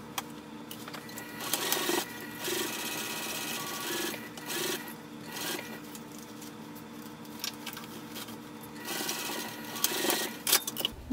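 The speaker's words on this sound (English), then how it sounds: "We are going to sew with the seam allowance given in the pattern, starting and stopping, back stitching when we start and stop" A sewing machine stitches a seam on a wristlet bag, with backstitching at the start and stop. Close, rapid mechanical chatter comes in repeated bursts separated by short pauses.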